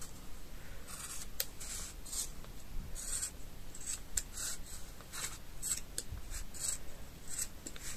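Scissors cutting macrame threads in half, a quiet run of short, crisp snips repeating in an uneven rhythm close by.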